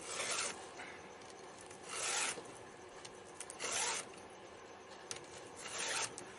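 Repeated rasping strokes of a Stihl sharpener file on chainsaw chain teeth, four distinct bursts with short pauses between, close and steady.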